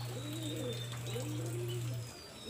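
In a loft, pigeons coo in repeated low, rolling phrases that swell and fall over a steady hum, close and clear, with faint chirps above them.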